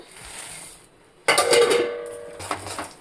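Shelled, split peanuts tipped into hot jaggery syrup in a pan for chikki: a sudden loud metallic clatter and rattle, then softer scraping and stirring against the pan.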